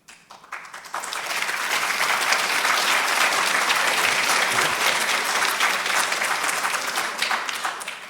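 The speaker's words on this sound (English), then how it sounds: "Hold your applause because you may not like this." Loud, sustained applause from a large audience at a policy address on US-Israel relations, starting with a few claps and swelling into dense, steady clapping that fills the whole stretch without talk.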